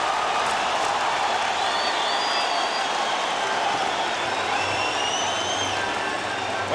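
Crowd noise fills a hockey arena at a 1992 Penguins at Bruins game, a sustained roar with scattered cheers and whistles heard from a distance.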